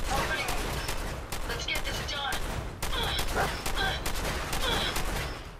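Rapid bursts of gunfire ring out in Fallout 4 as the player shoots the robot companion Ada, with repeated loud volleys close together and brief pauses between them, under no talk.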